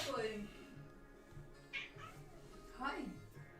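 Cowboy, a pet cat, meows a few times at a faint level while a person talks over a low background hum, with the meows at the start and again near the end.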